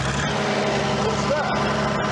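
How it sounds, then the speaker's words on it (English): A British generator unit with a Leyland engine runs steadily, a continuous loud rumbling drone with no break throughout. "It's a Leyland engine, and it's a British generator unit as well."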